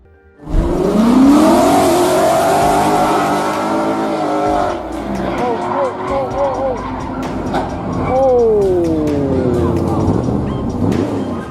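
A supercar speeds along at high revs with rising and falling engine whines, then skids as it strikes an obstacle, its tires squealing loudly near the end with scattered sharp knocks.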